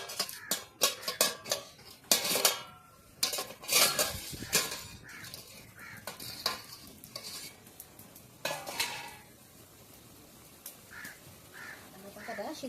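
A lid is lifted off a steaming pot of boiled taro leaves, giving scattered clanks and scrapes of metal cookware. A person talks between the clatter, and crows caw outdoors in the background.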